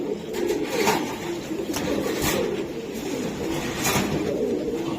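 Racing pigeons coo close by in soft, repeated low throaty calls, with some rustling and a few brief clicks mixed in and no speech.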